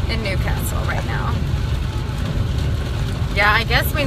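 Heavy rain beating on a car driving down a highway, a loud constant low wash of water and road rumble, with people talking at times.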